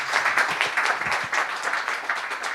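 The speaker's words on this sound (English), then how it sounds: "Once again, let's send them with a big round of applause." An audience claps for the panelists at a sustainable finance seminar, producing a dense, steady round of applause from many hands at moderate volume throughout.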